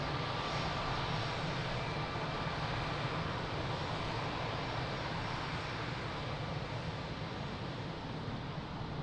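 An airplane takes off from runway 02 at Lisbon Airport, a broad, steady engine roar that fills the whole clip at an even level.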